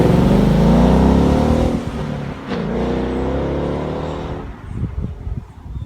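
A 2016 Ford Mustang GT Premium Performance Package engine roars loudly at high revs past 4,000 RPM, then the pitch drops and settles into a lower rumble before fading to a rougher idle.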